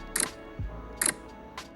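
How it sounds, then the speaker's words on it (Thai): Sony Xperia 1 III smartphone camera shutter, firing crisp, close clicks, two main snaps about a second apart with fainter echoes, in a quiet room with no talk. "แล้วก็เสียงชัตเตอร์เวล าเราถ่ายภาพก็จะประมาณนี้นะครับ"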